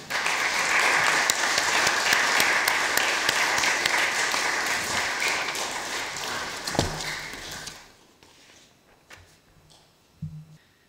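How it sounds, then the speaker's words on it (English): A church congregation at a Sunday service applauds warmly, dense sustained clapping for about eight seconds that then fades out, followed by a few scattered footsteps and shuffling in the quiet hall. "can the rest of us give them a round of applause?"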